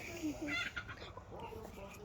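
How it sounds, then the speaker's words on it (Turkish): Rooster clucking and short calls sound nearby, a few brief bursts over quiet background, with people talking faintly in a mandarin orchard. "Horoz var."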